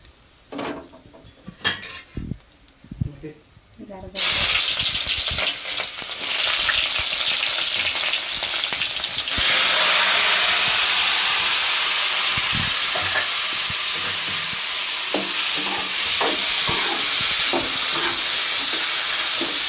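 Coriander seeds fry in hot oil for a drumstick-leaf chutney, a loud steady sizzle that jumps up after a quiet start of scattered clinks and stays dense and hissing throughout, with occasional stirring scrapes and no talking.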